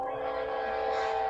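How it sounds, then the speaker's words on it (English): Train rolling past a home right beside a railway, a steady sustained tonal horn-like wail held throughout at moderate loudness with no talk. "Yeah, I can hear the train."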